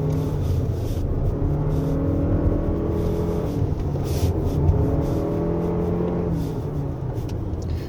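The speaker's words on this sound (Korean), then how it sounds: "엔진은 목이 터져라 네 계속" A 2023 Lexus RX350h hybrid SUV engine drones and revs steadily at full throttle on a winding road, a continuous loud low roar with rising and falling harmonic tones, no voices.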